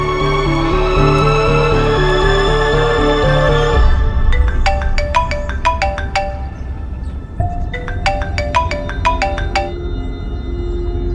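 An electronic ringtone plays loudly, first as a sustained tonal melody, then as rapid bright chiming notes in repeating bursts.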